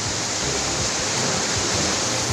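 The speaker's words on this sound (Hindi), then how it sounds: "यहां जिधर भी देखिए वहां आपको सिर्फ और सिर्फ पानी की तेज धार ही दिखाई देगी।" Floodwater rushes in a strong torrent through a temple courtyard and sanctum during heavy rains, a dense continuous roar of churning water close and loud with no other sounds.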